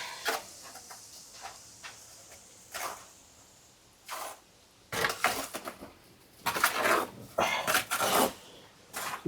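Soil and cement mortar worked with water by hand, irregular bursts of wet scraping and squelching with short pauses between strokes, close and fairly quiet.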